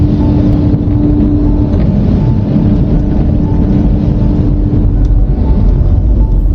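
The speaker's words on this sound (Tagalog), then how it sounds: "Narinig niyo yung tunog ng blower," An overhead car wash dryer blower roars steadily at close range, a constant windy rush with a low hum underneath and no talking.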